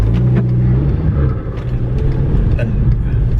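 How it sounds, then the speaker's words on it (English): Deep engine rumble from an MK5 Golf GTI fitted with an oversized Ramair induction kit, pulling away from a junction under acceleration, heard from inside the car, loud and steady. "that come out from that oversized Rame induction kit are ridiculous"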